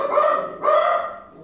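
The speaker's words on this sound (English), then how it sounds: "as you can hear my dog in the background" A dog barks twice in the background of a quiet indoor room, two fairly loud, close barks about half a second apart with a short tail.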